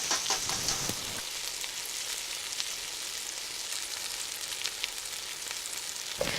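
Eggs are cracked into a hot frying pan for fried rice, a couple of sharp taps and crackles at the start giving way to steady, close sizzling frying.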